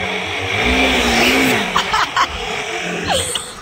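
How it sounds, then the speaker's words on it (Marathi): A car engine hums steadily close by, with a couple of brief higher clatters and a short rising whine near the end. "गाडीचा आवाज बघू शकता तुम्ही"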